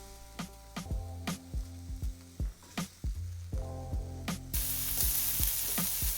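Chopped onions drop into a hot pan for a frittata and breakfast potatoes, and a steady bright sizzle swells up in the last couple of seconds over rhythmic plucked music tones.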